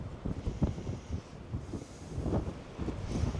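Strong gusts of wind outdoors buffet the microphone in a low, uneven rumble that swells and eases, with no voices.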